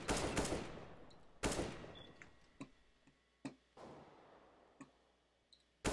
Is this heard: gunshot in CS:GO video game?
yes